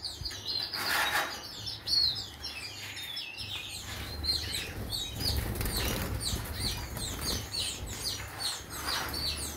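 Small birds in a breeding aviary flap and flutter close by while sharp chirps and tweets sound repeatedly throughout, with bursts of wingbeats standing out over a steady low hum.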